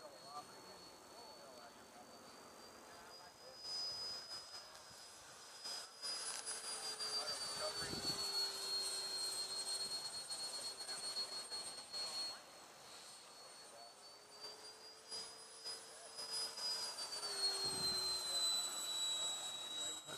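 A small remote-control Flexjet F-16 model jet flies overhead with a thin, high turbine whine that rises and falls as it passes, fairly faint and distant, with people talking intermittently over it.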